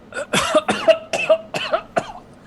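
A human voice imitates several people coughing inside a room during a tabletop role-playing game: a quick run of five or six rough, separate coughs, close and clear.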